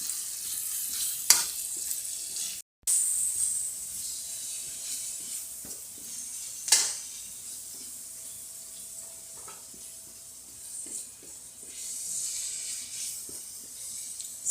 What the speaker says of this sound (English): just cooking the sausage just a little bit more before I add the onions and peppers